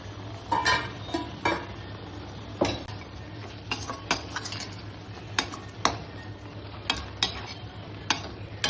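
Broad beans with chili powder sautéing in a pan for a brinjal curry, heard as a steady low sizzle broken by repeated clinks and scrapes of a spoon stirring against the pan, close and without talk.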